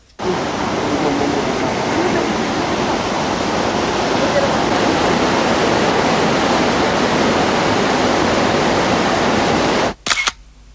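Kegon Falls, a waterfall at Nikko, sends up a loud, steady broadband roar of falling water that holds for about ten seconds, then cuts off abruptly with a brief clatter.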